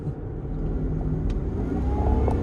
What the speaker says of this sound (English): after you hear that supercharger whine